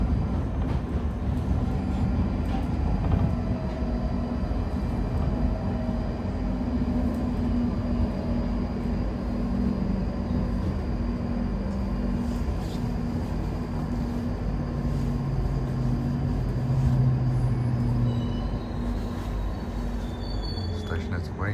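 A London Underground Northern line train runs toward High Barnet, a steady loud rumble and rolling drone with shifting tonal whines, while a voice talks intermittently over it.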